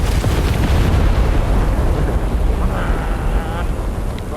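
A heavy explosion in the tank battle game War Thunder, a loud roaring boom that swells into a dense, sustained rumble lasting several seconds before easing slightly.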